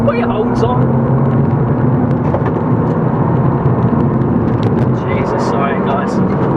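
An Abarth 595 Esseesse's engine rasps through a corner, a loud, close, continuous rumbling drone with a gritty edge that stays strong throughout.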